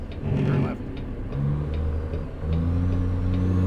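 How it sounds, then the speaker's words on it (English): A truck's Jake brake and diesel engine in American Truck Simulator give a loud, low rumbling drone that shifts pitch and grows heavier partway through. "Get a little bit of that Jake brake in."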